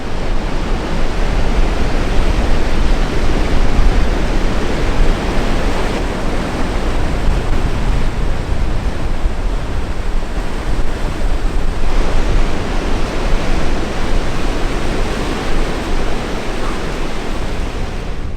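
Ocean waves pounding the shore on the Dingle Peninsula, County Kerry, a loud, continuous roar of surf with slow swells and wind buffeting the microphone.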